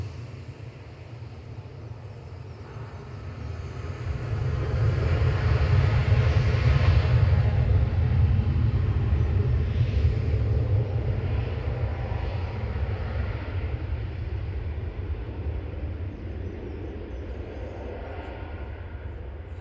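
A Boeing 737-800 airliner at Manchester Airport gives off a steady low engine rumble that swells in the middle and then holds at a loud, even roar.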